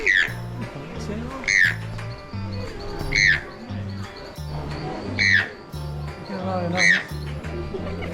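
A toucan in an indoor tropical rainforest exhibit gives loud, sharp squawks at roughly regular intervals. Low repeated honking calls run underneath and some background talk can be heard.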